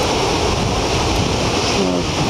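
Ocean waves at Sendai Shinko beach in Japan, chest-to-shoulder-high surf with a northeast swell running beside the south breakwater, roar as a continuous broadband wash mixed with heavy wind buffeting the microphone, with no voices.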